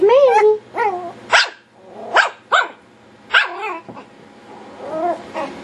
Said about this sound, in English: Mandy's laying in Mama's lap and barking at everybody